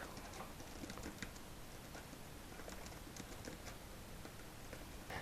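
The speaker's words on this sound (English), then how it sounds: "Plain and simple, just type." Plain typing on a computer keyboard while writing a new note, with quick, irregular clicks running steadily over a low background hiss, close and moderately quiet, no voices.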